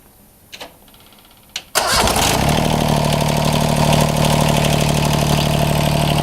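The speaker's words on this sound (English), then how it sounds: "Let's crank her up." A John Deere 330 tractor's Yanmar diesel engine cranks briefly after a couple of faint clicks, catches, and settles into a loud, steady, close idle.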